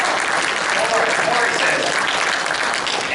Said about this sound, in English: you can clap for him too